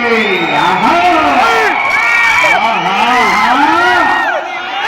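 Crowd noise at a state-level bullock race, a steady loud roar of cheering and shouting voices that swells and holds throughout, then drops slightly near the end.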